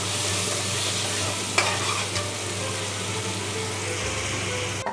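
Ginger-garlic paste sizzles in hot oil while being stirred for Bengali mutton kosha, a steady close frying hiss broken by a few scraping clicks of the spoon against the pan, with no talking.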